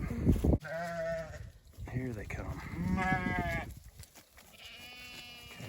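St. Croix sheep bleat repeatedly as they run past, several loud, wavering calls close by, with a person speaking briefly and a dog moving among them.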